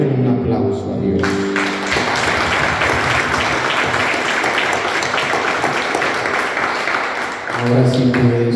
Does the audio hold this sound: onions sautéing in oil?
no